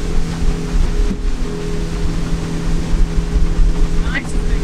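A Beneteau Antares 9 outboard cabin cruiser running at speed through waves, a loud steady engine drone with rushing water and hull slap close by, people talking over it.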